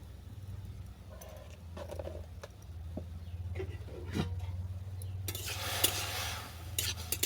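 Spoon stirring watermelon sukto with water, salt and turmeric in a pan: soft scraping and clinking strokes over a low steady hum, with a brighter sizzling rush building near the end.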